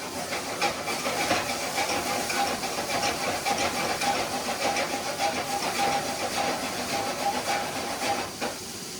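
Apples cooking with sugar in a pan, giving off a steady, close hiss and sizzle with faint crackling throughout and no voices.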